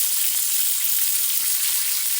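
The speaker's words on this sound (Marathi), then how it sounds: "तर आपलं हे तेल म्हणजे कढई गरम झालेली आहे या मिरच्या आता मी या कढईत टाकते" Green chillies sizzling in a hot, lightly oiled kadhai while being roasted for a rustic village-style thecha, a steady, even hiss with no break and no voices.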